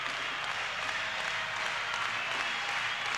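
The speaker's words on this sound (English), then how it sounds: "Coach Weber had to take a 30 to try to quiet this crowd and regroup this team." A home crowd of about nine thousand fills a college basketball arena with steady, roaring cheers and applause, a dense continuous wash of noise with no break.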